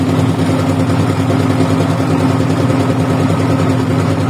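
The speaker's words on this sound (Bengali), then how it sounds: "নৌকা আসছে যাচ্ছে আমরা যাচ্ছি নৌকা একটা আসতেছে এভাবেই চলতেছে" A motor boat engine drones loud and close on a river trip toward Sada Pathor, a steady, even hum with no change in pace or pitch.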